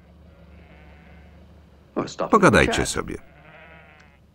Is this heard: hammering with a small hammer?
no